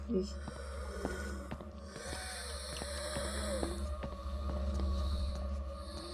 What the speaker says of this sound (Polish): To ciężko oddychające coś zostało.